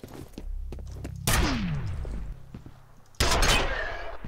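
Gunshots in the first-person shooter F.E.A.R.: two loud, heavy blasts about two seconds apart, each with a ringing tail, over light thumps and footsteps.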